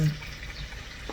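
Chicken mid-wing pieces fry in hot oil in a pan, giving a steady close sizzle with faint crackles throughout, over a low background hum.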